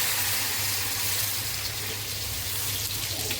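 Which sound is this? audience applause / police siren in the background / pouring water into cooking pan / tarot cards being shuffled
pouring water into cooking pan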